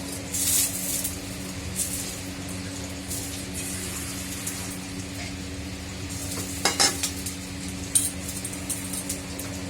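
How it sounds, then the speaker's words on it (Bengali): Steady sizzling of potatoes frying in a pan, with occasional scrapes and clinks of a spatula stirring. "একটু আলুগুলো ভাজা ভাজা হোক"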